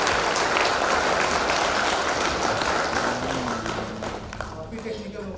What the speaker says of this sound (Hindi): एक बार जोरदार तालियों के बीच।